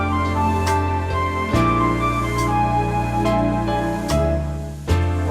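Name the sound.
Lowrey organ orchestral ballad rhythm style preset playing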